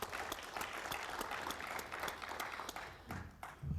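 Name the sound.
audience applause at a parliamentary colloquium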